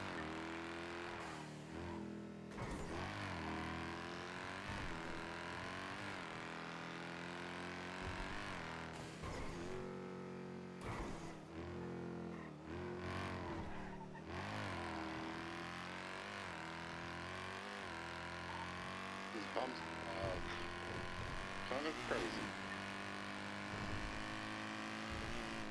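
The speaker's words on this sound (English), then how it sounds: "You're in a car with like a jet engine strapped to it." Video game car in NoPixel fitted with a strapped-on jet engine, a loud continuous engine roar with rising and falling revs and harmonic sweeps throughout, close and steady with no talk.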